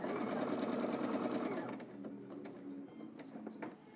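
Sewing machine stitching the seam of baggy jeans, running at a fast steady rattle for over a second, then slowing into short intermittent bursts of stitching, close and clear.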